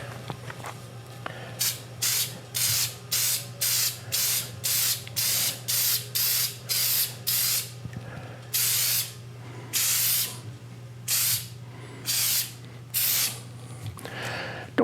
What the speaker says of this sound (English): just a light spray on here